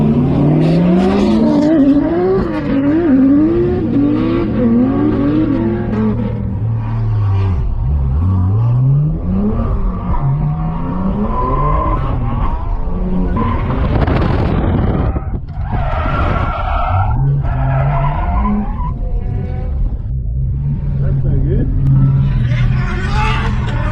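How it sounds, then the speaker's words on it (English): A BMW E92 335i drifting at a racetrack, with rising and falling engine revs and squealing tires from several cars, loud and continuous under someone talking throughout. "I can hardly hear my car with all these noisy cars."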